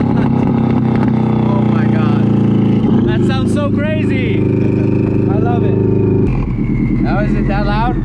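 Up close, the turbocharged engine of a WRX-swapped Porsche Spyder holds a loud steady drone, then drops off sharply near the end, with people talking over the noise.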